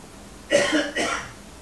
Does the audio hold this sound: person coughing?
yes